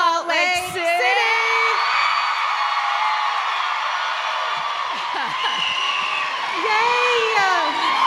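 A theater audience whoops, yells and cheers loudly and continuously for a standing ovation, with shrill whoops rising above a dense crowd roar.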